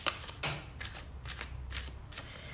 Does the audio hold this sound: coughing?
no